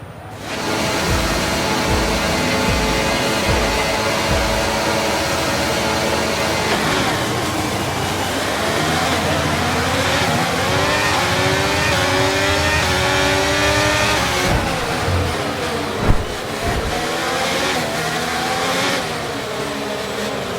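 Race cars from the F1 23 video game roar off the start line together, engines loud and sustained with rising revs and gear changes throughout, a dense near pack with no talk.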